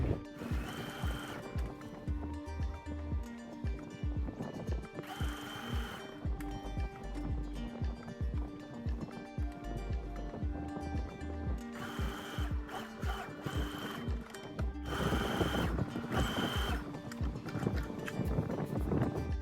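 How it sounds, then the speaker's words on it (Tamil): Sewing machine double stitching the armhole of a kameez, with repeated bursts of rapid mechanical needle clatter, several stops and restarts, close and fairly quiet. "இப்போ நான் ஆம் ஹோலில் டபுள் ஸ்டிச் போட போகிறேன்."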